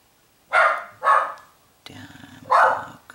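A pet dog named Elvis barks indoors in three loud, separate bursts a half-second apart, followed by a rougher, growly bark at close range with no talk over it.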